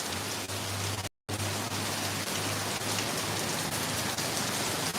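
Steady rain falls in a Vietnamese village, a dense even hiss of drops on surfaces, close and continuous, with a low hum underneath and a brief dropout near the start.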